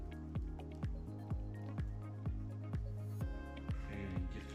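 Thick enchilada sauce is poured over a Tex Mex enchilada casserole, giving repeated wet squishing glugs at a steady rhythm, close and moderately loud, with a faint clink near the end.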